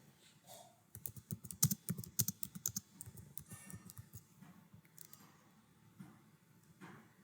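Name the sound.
typing on a computer keyboard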